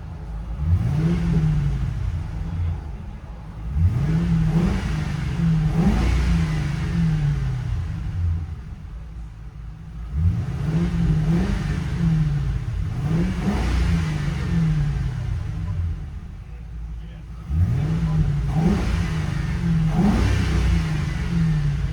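Loud revving of a 4.6 liter Police Interceptor V8 in a 1962 Ford F-100 on a Crown Victoria frame, heard from inside the cab, rising in repeated bursts with a deep throaty rumble between them, no talking.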